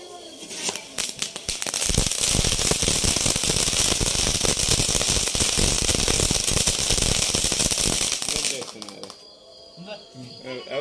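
A long, dense burst of rapid pops from a garlic-type firecracker crackles loudly and continuously for several seconds, then stops abruptly, leaving quieter background noise.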